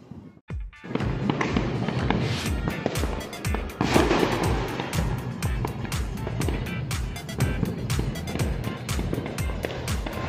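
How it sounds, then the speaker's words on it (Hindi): A loud, crackling burst of Diwali firecrackers popping rapidly in a dense string, sharp bangs continuing for several seconds. "भाभी जी एक ज़बरदस्त पटाखा जलाती हैं"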